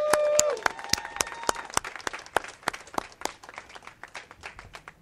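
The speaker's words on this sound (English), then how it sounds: "Put your hands together and give God a hand clap of praise." Small crowd clapping at a workers' rally to unionize, sparse individual claps that start fairly dense and thin out into scattered, irregular hand claps over a few seconds, with a brief tone at the start.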